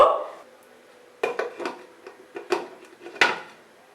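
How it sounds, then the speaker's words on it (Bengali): A lid goes onto a pot of young-goat mutton curry with potatoes on a medium flame, giving a few close metallic clanks and rattles after a quiet start. "আমি এবার মিডিয়াম আঁচে রেখে ঢেকে দিচ্ছি।"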